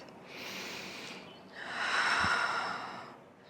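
A deep breath during a morning yoga flow, a long airy inhale followed by a slower, fuller exhale, close and soft with no talking.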